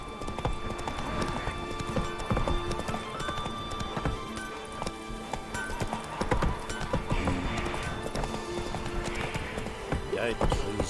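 Roach the horse gallops in The Witcher 3, hooves clip-clopping in a fast steady rhythm close by, with a brief whinny and a voice speaking over the hoofbeats.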